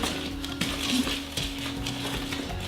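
Cake batter with cocoa powder being mixed in a bowl, with irregular scraping and light clinks of a utensil against the bowl, close and moderately quiet, without talk.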